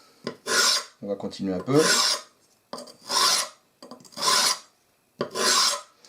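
Coarse diamond stone rasping along a worn, nicked hunting knife blade in four long strokes separated by short pauses, close and clear, with a brief bit of speech between the first strokes.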